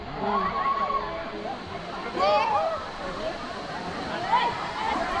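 A steady rushing roar of the Kalmandavi waterfall in Maharashtra fills the background while people talk over it nearby.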